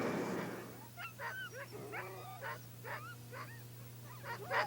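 A winter sled dog team at a camp near Nome, Alaska, gives off repeated whimpers, yips and short barks at a moderate distance over a low steady hum.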